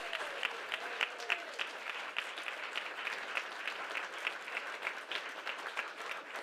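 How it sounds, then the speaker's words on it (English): A room full of people applauding at a spring speech showcase, steady dense clapping that carries evenly from start to end at moderate, somewhat distant level, without voices. "Let's give him a big round of applause."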